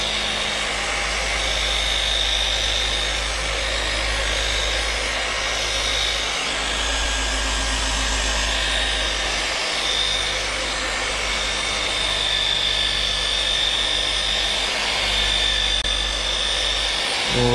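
A machine polisher works wet across car paint, a continuous whirring drone with a steady high whine, holding fairly even for the whole stretch.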